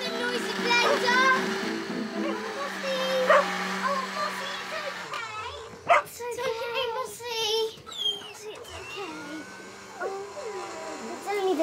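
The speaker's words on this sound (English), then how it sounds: "And it makes Mossy bark!" A cartoon dog barks and yips amid a busy room with someone talking, a blender whirring in the background.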